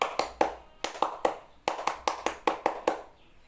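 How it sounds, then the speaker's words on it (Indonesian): Scout group doing a rhythmic clap routine, sharp hand claps in quick patterned bursts with short pauses between phrases, close and crisp with no talking. "Tepuk pramuka."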